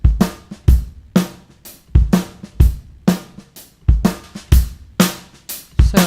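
A drum loop with EQ trimming its high end plays a steady, loud pattern of punchy kicks and snappy hits with a slightly softened top, repeating at an even groove with no voices.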